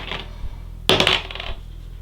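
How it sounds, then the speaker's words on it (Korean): Dice for the Korean board game Sejong clatter onto a table, a sharp burst of rattling hits that fades over about half a second, close and with no voices. "나머지 호주에 속해 있던 인재 주사위 주인들이 가져가서 각자 자신의 주사위를 굴립니다."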